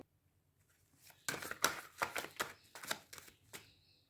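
Tarot cards drawn and shuffled by hand, a quick close run of soft riffling and flicking snaps after a near-silent start, alone without voices.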